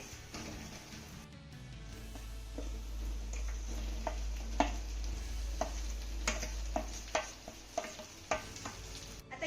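Marinated okra sautéed in a pan alongside other ingredients, a faint sizzle under scattered ticks and taps of a spatula stirring, close but quiet, with a low hum running beneath.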